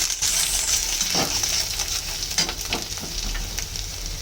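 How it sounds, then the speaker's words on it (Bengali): Panch phoron and green chili paste frying in hot oil with cumin, coriander and turmeric powder, a continuous close sizzle with a few scraping stirs of a spoon in the pan, no talking. "এখন দিয়ে দেব জিরের গুঁড়ো, ধনিয়ার গুঁড়ো আর হলুদ দিয়ে মশলাটাকে আগে আমি একটু ভেজে নেব"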